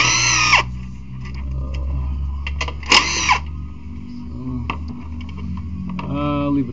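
A power tool spins off upper intake bolts on a 2006 Chevy Equinox 3.4 in short whirring bursts, a couple loud, separated by clicks and pauses in a garage, with a mechanic's voice faintly under it.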